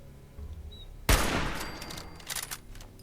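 Sniper rifle gunfire in the video game Fallout 4: a single loud, close shot cracks out after a quiet stretch, followed by a decaying rumble and a few scattered smaller impacts, with no talking.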